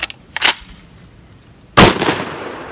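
A Panzer M4 semi-automatic shotgun fires steel shot loads, two sharp blasts more than a second apart, the second louder with a longer ringing tail, close and without talk.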